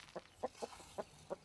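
Chickens at a rural bear biostation in Russia's Tver region cluck softly in a handful of short, irregularly spaced notes, fairly quiet and without speech.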